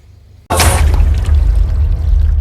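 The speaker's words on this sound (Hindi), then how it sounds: "ठीक है, अपने को पानी निकालना है।" Water is poured out at home, starting abruptly after a short quiet moment with a bright splash, then continuing as a loud, steady gush with low rumble until the end.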